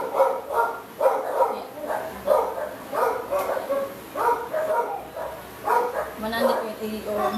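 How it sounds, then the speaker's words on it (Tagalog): A dog barks repeatedly in the background during a live math lesson, its yaps and bow-wows recurring steadily at moderate distance beneath a person talking throughout. "Ang ingay ng aso."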